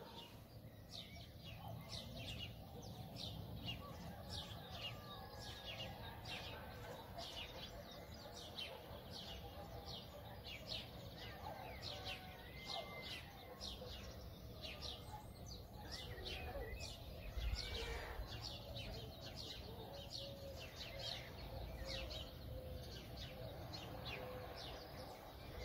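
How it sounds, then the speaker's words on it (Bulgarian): Birds sing and chirp in a garden in the early morning, many quick repeated calls from several birds at moderate distance over a faint, steady outdoor background, with no one talking. "Чуваш песента на птичките"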